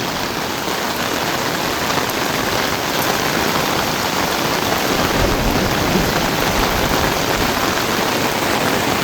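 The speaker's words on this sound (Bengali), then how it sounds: "বৃষ্টির আওয়াজ শুনতে পাচ্ছ?" Heavy rain pours down steadily at a homestay in the hills of Kalimpong, a loud, dense, unbroken hiss of drops striking surfaces close by.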